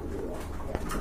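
Muslin pigeons at a bird market, soft low coos up close, with a brief rustle partway through.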